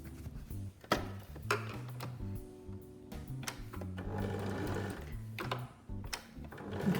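A sewing machine stitches face mask seams in short runs, its needle chattering rhythmically with brief pauses and faint handling noises between bursts, fairly quiet and close.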